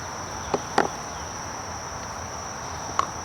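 A pile of honey bee nurse bees hums softly and steadily during a mite test, broken by a few brief clicks and knocks.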